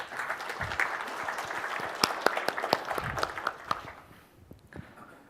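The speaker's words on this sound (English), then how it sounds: "Let's give him a warm applause." Conference audience applause at a developer event: a moderate crowd claps in a steady patter that peaks and then tapers off toward the end, with a few distinct sharp claps standing out, moderately distant.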